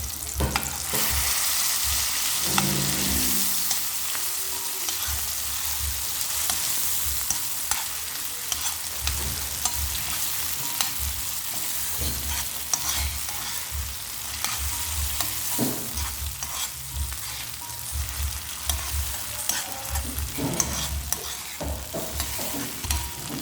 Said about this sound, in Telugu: ఈ ఆయిల్లోకి మనం ఇందాక పేస్ట్ చేసిన ఉల్లిపాయ, టమాటా పేస్ట్ అయితే దీంట్లోకి వేసుకుందాం